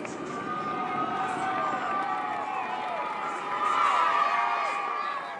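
Roadside spectators cheer and shout as the Tour de France stage passes through La Clusaz in the rain, a dense, continuous crowd roar with whistles and shrill cries that swells slightly near the end.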